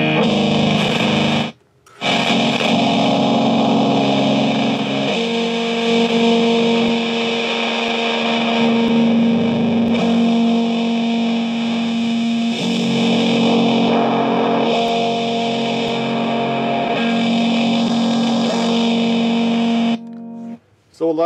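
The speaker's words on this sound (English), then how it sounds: "So a lot of that sounds unusable, but there is good tones in here." Heavily distorted electric guitar through a Digitech Death Metal pedal, held in sustained, droning chords, loud and saturated with effects, briefly cutting out near the start and end.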